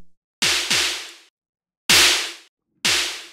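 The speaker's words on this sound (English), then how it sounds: "Distortion." Electronic percussion pads on a Groove Rider GR-16 run through a distortion insert effect: four loud, crunchy, noisy hits in an uneven pattern, each with a deep thud that decays, separated by silence.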